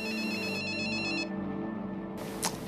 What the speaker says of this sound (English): He heard her phone ringing in her jacket pocket.